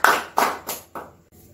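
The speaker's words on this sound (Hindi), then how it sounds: "हम सब अपने परमेश्वर को एक बार जोरदार ताली बजा करके उसकी आराधना" A few sharp, loud hand claps from children at a vacation Bible school worship session land in a slowing rhythm, each ringing briefly and fading, with the last ones softer.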